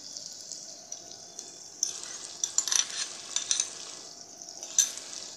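Yogurt goes into frying chickpea pulao and is stirred, making a soft, quiet hiss of sizzling with scattered scraping and wet clicks from the spoon.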